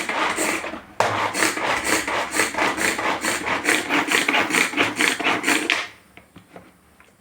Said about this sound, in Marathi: याच्यात थोडासा कांदा अजून आपण बारीक करूया.